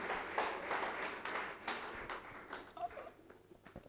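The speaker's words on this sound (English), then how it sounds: "Please, let's clap for him." Scattered clapping from an audience at a gender-based violence awareness event in Anambra State, fairly faint and uneven, thinning toward the end.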